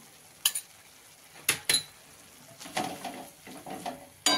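Spoon stirring a ginger, garlic, green chilli and coriander paste into spinach in a pan, with sharp scraping clinks and softer rustling strokes at an uneven pace, close by and with no talk.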